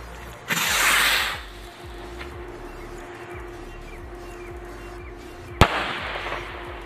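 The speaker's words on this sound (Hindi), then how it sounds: "काफ़ी ऊंचाई तक गया हमारे पास ये रॉकेट, और ऊपर जाके इसका एक बम भी फूटा है" A large firework rocket launches with a whooshing hiss lasting under a second, followed after a few seconds of quiet by one sharp, loud bang as it bursts high up, outdoors.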